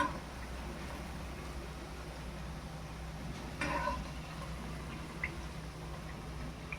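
Jalebi sizzles in hot oil with a low, constant bubbling hiss, close and steady, broken by a couple of brief clinks and splashes as the spirals are turned; no one speaks.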